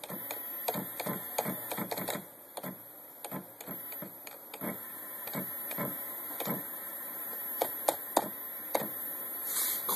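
A homemade DIY CNC machine drives its Z axis, giving a close, fast series of mechanical ticks and clicks with a faint steady motor whine, in short irregular bursts and no talk.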